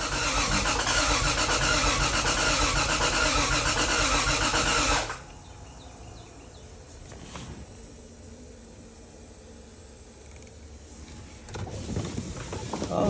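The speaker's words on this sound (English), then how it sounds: "Here's my first start attempt." A turbocharged Lexus GS300 engine cranks and catches on a first start attempt, running loud and rough for about five seconds before cutting out, then quiet ticking and faint clatter until it roars again near the end.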